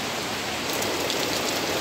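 Heavy rain pours down in a Konkan village, a steady, dense broadband hiss with no pauses and no voices over it.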